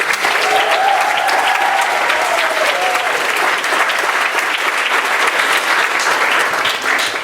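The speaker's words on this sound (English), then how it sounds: "A round of applause, please." Sustained audience applause at a Stagedoor drama festival, loud and dense throughout, with a few cheers and whoops rising above the steady clapping.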